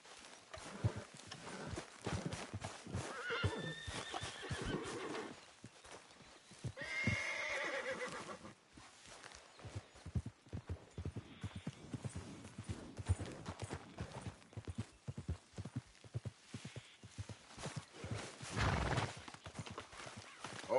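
A horse in the video game Red Dead Redemption 2 whinnies loudly a few times while its hooves clip-clop irregularly, alongside other game sounds and scattered effects.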